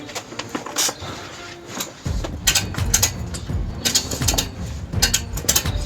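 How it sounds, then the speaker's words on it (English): Ratchet straps being tightened on a Clarke CIS666 mini garden shed cover, with bursts of sharp clicking and rattling, close and irregular, over handling noise. "These get wrapped around and put on the ratchets."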